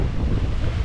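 Steady 20-knot wind roars across the microphone aboard the sailboat Liberty under full sail at sea, a dense low rush with the wash of waves, continuous and loud throughout.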